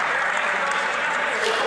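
Applause in a parliamentary chamber, a loud, continuous burst of clapping from a seated crowd lasting under two seconds, with some voices mixed in.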